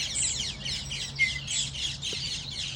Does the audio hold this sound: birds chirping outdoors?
yes